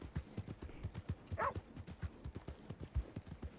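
A horse gallops in Red Dead Redemption 2, its hooves pounding out a quick, steady clip-clop rhythm up close, with a brief whinny-like burst partway through.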